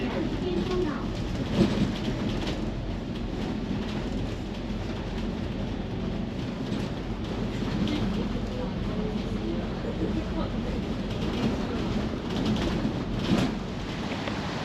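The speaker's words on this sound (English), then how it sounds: "Oh, the thunder." Thunder rumbles over Hong Kong on a cool, overcast day, a low continuous roll filling the background with a few louder swells, steady and broad rather than sharp cracks.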